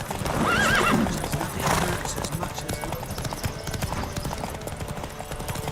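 Rapid galloping hoofbeats pound steadily during a horse race in The Witcher 3: Wild Hunt, with a loud horse whinny near the beginning and a rushing background noise throughout.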